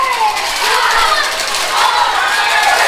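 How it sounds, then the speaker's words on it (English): Hockey arena crowd at a youth PeeWee game, a loud, steady mass of voices and cheering that swells through the final seconds with no clear individual words standing out. "You can hear the crowd counting off the seconds"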